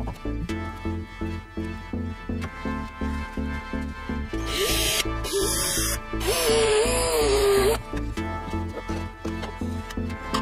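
A plastic cable duct is cut at a 45-degree angle in a workshop. Rhythmic sawing strokes repeat close by, then a louder, harsher burst of cutting noise with a whining tone follows before the strokes resume.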